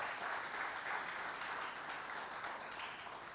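Applause from the audience at the India Today and RPG Group Happiness at Workplace Summit and Awards 2023 gala, a steady wash of many hands clapping at an even level throughout.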